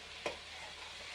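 Sausages and meatballs brown in a pan for homemade sauce: a steady sizzle with a single sharp clink of utensil against pan near the start.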